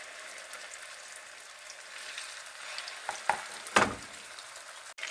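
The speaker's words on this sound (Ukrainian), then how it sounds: "Нагрілася олія на сковорідці і можна викладати вже котлетки." Faint, soft sizzling of pumpkin cutlets frying in oil in a pan, with a couple of louder hissing bursts as pieces are added.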